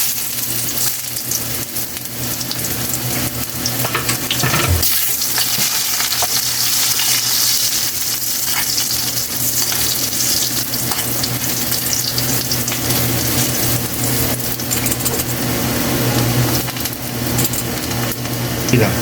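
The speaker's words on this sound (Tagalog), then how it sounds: "nagpapainit na tayo ng mantika. Yan, lagay muna natin yung luya natin." Ginger sautéing in hot cooking oil for adobong chicken feet, a continuous loud, close sizzle that holds steady with occasional stirring clinks underneath and no talking.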